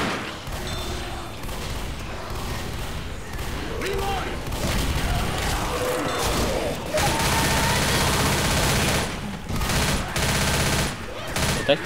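Bursts of gunfire from the Left 4 Dead zombie shooter, with repeated shotgun and rifle blasts growing denser and louder across the stretch, ringing out alone without talk.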